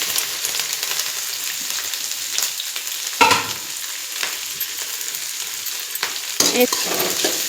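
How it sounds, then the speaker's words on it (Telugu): Cabbage, capsicum, carrot and onion sizzle and crackle steadily in hot oil, a close, continuous frying hiss with a few louder bursts as the vegetables are stirred; no talking. "ఆయిల్ వేడెక్కింది కదా, మనం ముందుగా కట్ చేసుకున్న క్యాబేజీ, క్యాప్సికము, క్యారెట్,"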